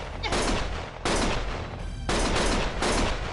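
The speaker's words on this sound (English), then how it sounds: "Stop shooting!" Loud bursts of automatic gunfire in the Lost Judgment video game come in three or four sharp, closely spaced volleys, each hitting hard at the start and then ringing out briefly.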